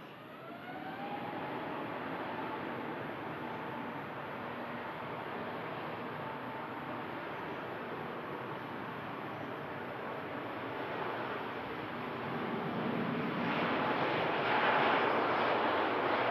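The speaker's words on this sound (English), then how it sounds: "Next heavy departure is going to be this Cathay." A Cathay Pacific heavy jet departs Manchester for Hong Kong, a continuous engine roar with faint whine building gradually and growing louder and broader toward the end as the aircraft powers up.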